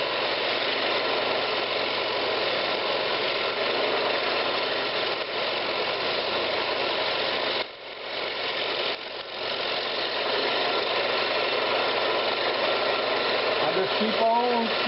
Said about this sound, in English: Just keep on shear scraping.